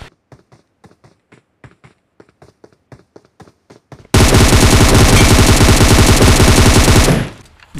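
Light scattered taps give way to a sudden burst of rapid automatic gunfire in the video game Mirror World, loud and sustained for a few seconds before stopping abruptly.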